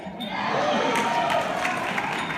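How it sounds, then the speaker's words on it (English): Audience at the New Yorker Festival cheering and clapping, a short swell of crowd noise with scattered whoops, moderately loud and settling toward the end. "Cheering for Hackensack."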